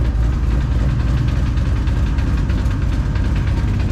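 A deep, rumbling cammed V8 in a Ford Mustang GT idles steadily nearby, a continuous low throb with a loping, uneven pulse throughout.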